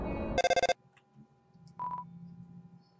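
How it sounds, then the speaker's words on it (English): A phone call comes in during the video game Undertale: a burst of rapid electronic ring pulses is followed by a brief beeping tone, clean and close, with no talk. "Why is my phone ringing this time?"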